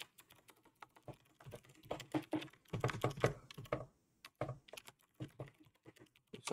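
Someone types on a computer keyboard, with irregular clusters of sharp clicks and thumps close by, some quick runs and short pauses between keystrokes, and no talking.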